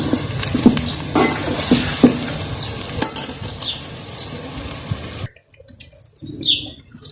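Onion, garlic and ginger paste fries and browns in a pan, a steady loud sizzle with stirring scrapes and occasional utensil clinks, cutting off abruptly near the end before a brief return of quieter frying.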